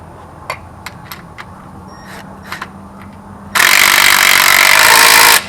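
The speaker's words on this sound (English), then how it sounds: "after you're done with an electric impact or whatever you use" Electric impact wrench tightening bolts on a MoTech billet bracket for a truck engine: after several faint clicks and taps, one loud, steady buzzing burst of hammering runs for about two seconds, close by, with no talk.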